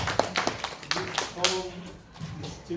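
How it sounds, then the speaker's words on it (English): An audience at a university symposium claps for the rector of the International Islamic University Malaysia, giving scattered, moderately loud handclaps that fade out within a few seconds, with voices faintly present. "A round of applause."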